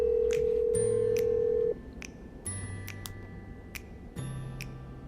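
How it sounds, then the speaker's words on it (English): A power dialer places a call: a steady dial tone cuts off, then a quick series of touch-tone beeps and clicks plays in bursts, each set followed by a held tone. "When you are ready, simply hit the dial button."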